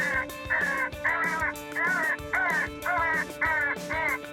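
Electronic game caller playing a crow distress call, imitating a crow being killed by its clan, used for winter coyote and crow hunting in Québec: harsh repeated caws in a steady rhythm, about eight loud bursts, with no talk.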